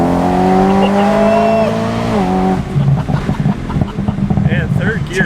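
S65 V8-powered BMW M3 engine accelerating hard in third gear, a loud rising drone that shifts into a rougher, pulsing roar, heard from inside the car with people talking over it.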